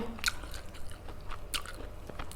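Someone bites into crunchy fried pork eaten with som tam, giving three sharp close crunches spaced across a couple of seconds over quiet chewing, with no talk.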